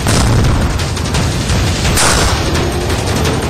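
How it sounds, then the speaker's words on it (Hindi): A breaching explosive charge blows open a window during a commando assault. The blast is a loud, dense roar and rumble that fills the whole moment without letting up. "कुछ ही सेकंड में यहाँ जोरदार धमाका होता है और अंदर जाने का रास्ता बन जाता है"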